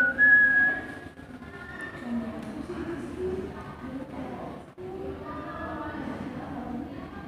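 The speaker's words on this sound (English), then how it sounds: "Will you stop that idiotic whistling?" Someone whistles a wandering tune over a steady room background, the notes fairly clear with short breaks, in a staged short drama.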